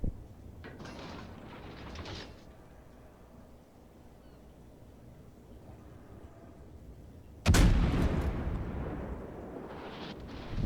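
Heavy naval gunfire in World of Warships during a clan battle, with a loud sudden blast near the end that rings out over rumbling ambience after quieter mechanical clatter earlier.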